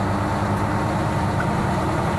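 Vehicle engine droning steadily while driving on a rain-hit road in Mindanao, a loud continuous low rumble with road noise and no voices.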